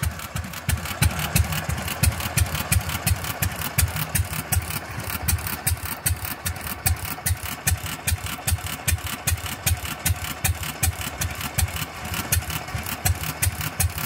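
A Fairbanks Morse 208 oilfield engine runs steadily on its own, giving a loud, even thumping beat with regular exhaust pulses and no talking over it.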